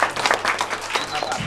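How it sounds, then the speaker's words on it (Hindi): An audience claps together in a brisk, uneven burst of applause to welcome guests at an indoor quiz gathering, with a voice speaking over the clapping. "सारे लोग ताली बजा के स्वागत करें।"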